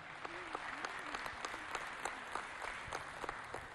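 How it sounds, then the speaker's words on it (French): At a book presentation ceremony, an audience gives a guest a round of applause, fairly quiet and distant, with scattered distinct claps over the crowd and a few faint voices underneath. "le général Blablaguier Gogleux sous un tonnerre d'applaudissements aussi."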